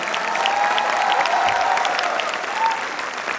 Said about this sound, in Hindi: आप लोग उनके लिए तालियां बजा देंगे, हमें अच्छा लगेगा।